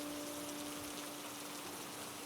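Steady rain falls at night, a dense, even hiss of drops with no pauses and no voices, holding at a soft, constant level throughout.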